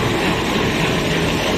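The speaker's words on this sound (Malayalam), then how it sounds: "ആ ഡീസൽ എഞ്ചിന്റെ സൗണ്ട് കേൾക്കാൻ നല്ല ഫീൽ കേട്ടോ" Diesel locomotive at Kollam Junction railway station, a steady loud rumble with a low engine drone, dense and continuous throughout with no talk.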